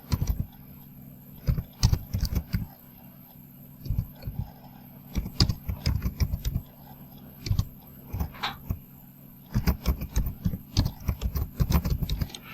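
Computer keyboard keys clatter in irregular bursts of quick clicks, pausing between runs, as an office address is typed in; the taps are close and fairly loud against a low steady room hum.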